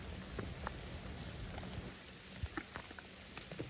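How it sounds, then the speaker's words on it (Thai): Rain falls steadily on a forest hideout, a dense hiss broken by scattered louder drops and patters, fairly close and with no voices. "แล้วตอนนี้ฝนก็ตกมาก หนักมากเลยนะทุกคนนะ"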